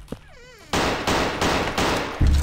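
Gun in a Backrooms horror video game: after a brief whirring tone, three or four loud, evenly spaced shots ring out, each one sharp and close with a short tail, and no talking over them.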